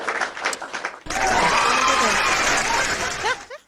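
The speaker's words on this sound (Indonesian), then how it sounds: "tepuk tangan soundcard itu" Canned applause from a soundcard bursts in loud and sustained for about two and a half seconds, then cuts off, during an Indonesian live stream; chatter and voices are heard before it begins.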